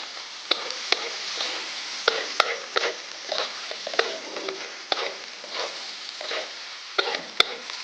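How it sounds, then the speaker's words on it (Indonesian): Meat stir-fried in a wok with scallions, a steady sizzle broken by repeated scraping strokes of a spatula, close and continuous, with no talk. "Nah, sekarang daging-daging proteinnya kita masukin juga. Langsung kita tumis lagi."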